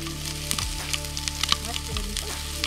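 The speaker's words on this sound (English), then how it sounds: "the plan is to sizzle those for a couple minutes on top of chorizo" Steady crackling sizzle of onions frying on top of chorizo in a hot pan, with a few louder pops and spatters over a constant hiss.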